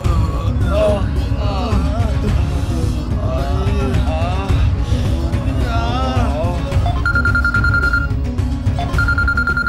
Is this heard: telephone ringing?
yes